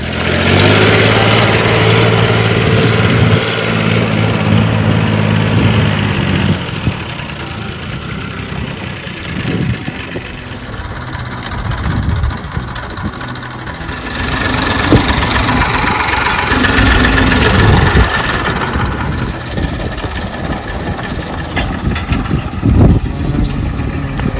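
Tractor engine pulling a five-tine plough through farm fields, a loud, steady mechanical rumble running throughout with slight rises and dips in intensity.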